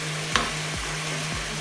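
Onion and capsicum go into a hot pan for chicken fried rice, frying with a steady sizzle under a low, constant hum, with a few sharp stirring clatters along the way.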